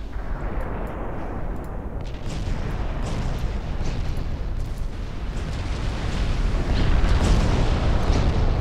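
Torpedo hits in the naval warfare game Ultimate Admiral Dreadnoughts, heard as a loud, continuous rumbling roar of blasts that swells toward the end, with no talking.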